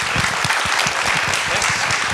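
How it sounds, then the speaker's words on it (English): Steady applause from a room full of people after a guest speaker's talk, dense clapping that holds at an even level throughout with no voices breaking through. "could we all just give Dr. Sinclair a round of applause?"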